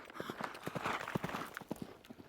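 A horse gallops past a training field, its hooves making rapid, irregular clip-clop beats that stay fairly faint and rise slightly in the middle.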